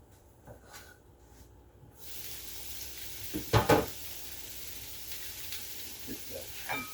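Spam frying and being stirred in a pan: a steady sizzle starts after a quiet moment, with a couple of sharp utensil scrapes against the pan midway and soft clinks later.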